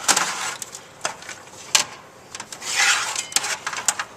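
A simple computer motherboard slides up and out of its case, making a near scraping rub with brief knocks and a louder grinding slide partway through.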